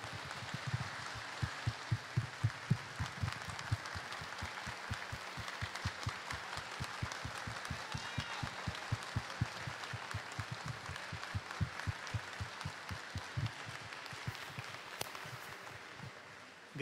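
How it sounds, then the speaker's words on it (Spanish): Sustained applause from a large audience, a steady crackle of many hands clapping that carries on without pause for the full length. "le demos un aplauso como se merece a William Osuna"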